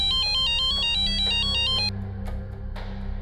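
Incoming-call ringtone on a mobile phone, a bright electronic melodic tune repeating for about two seconds before cutting off, followed by quiet room sound.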